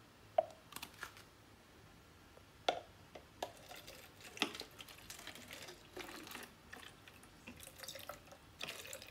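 Water poured from one plastic bottle into another gives a faint, uneven run of splashes, drips and small knocks, with several sharper taps scattered through a quiet stretch.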